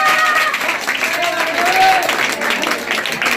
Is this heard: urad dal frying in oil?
no